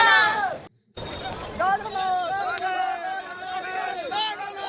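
Dense crowd hubbub at the Sunabesha festival in Puri, a continuous babble of many voices with a brief dropout near the start, then steady chatter and scattered calls throughout.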